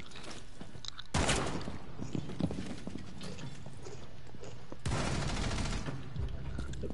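Bursts of rapid gunfire in a video game, two loud broadband volleys roughly four seconds apart, with game ambience and faint chatter between them.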